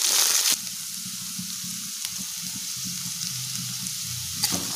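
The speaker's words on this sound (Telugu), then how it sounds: "బీన్స్ తరుగు, క్యారెట్ తరుగు, ఎండుమిర్చి గింజలు వేసుకొని ఫ్రై చేసుకోవాలి" Chopped cabbage, beans, carrots and dried chilli seeds fry in a pan for chilli garlic rice, a steady close sizzle with soft stirring scrapes; a sharper burst at the start and another near the end.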